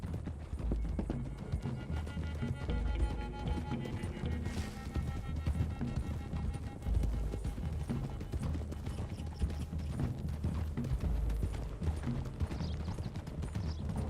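Horses gallop in the video game Red Dead Redemption 2, their hooves drumming in a fast, continuous clip-clop beat at moderate volume, with no talking over it.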